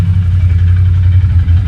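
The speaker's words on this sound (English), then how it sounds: "That's a motorcycle mama." Motorcycle engine running steadily at a low, throbbing rumble, close and loud, with slight fluctuations in throttle and no voices over it.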